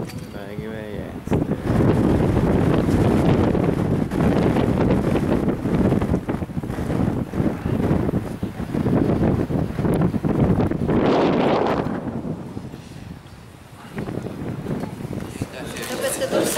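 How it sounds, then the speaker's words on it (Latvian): Loud, constant wind roaring and buffeting against the microphone in Ružomberok, Slovakia, with voices talking underneath at times. "Baigi vējiens."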